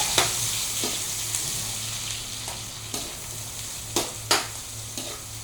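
Chopped ginger sizzles in a hot pan with a steady frying crackle, broken by a few sharp clicks and scrapes as it is stirred.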